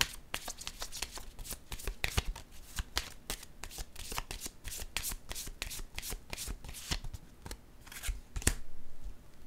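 Tarot cards are shuffled and drawn by hand, a rapid run of crisp riffling snaps and slaps at close range, with brief pauses between bursts and no talk.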